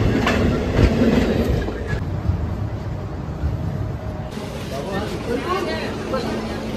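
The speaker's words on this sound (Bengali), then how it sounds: "আর আমাদের ট্রেন এসে পৌঁছালো NGP রেলওয়ে স্টেশন" A passenger train pulls into NGP railway station at platform 5, with loud rumbling wheels and rhythmic clickety-clack beneath a babble of talking passengers on board.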